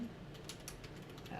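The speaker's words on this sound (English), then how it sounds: "I will type out my name" Computer keyboard keys tapped in a short, irregular burst of light clicks, fairly close and moderately quiet over steady room noise.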